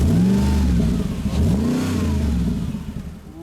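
A 2009 Mercedes-Benz SLR McLaren MSO Edition 722 S engine revs close by, rising and falling in sweeping pulls before easing off, with no voices.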